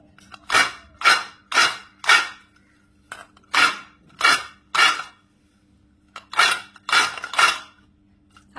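Fried savory biscuits are lifted out of a pan of oil to drain, heard as a series of sharp close metallic clacks and clinks in irregular bursts, with quiet gaps between them.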